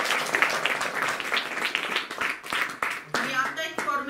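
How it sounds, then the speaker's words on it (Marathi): An audience at a Rajyoga meditation session for blind participants applauds a gentleman, a steady patter of hand claps running throughout, briefly swelling near the end as a voice speaks over it. "सरांसाठी टाळ्या वाजवा"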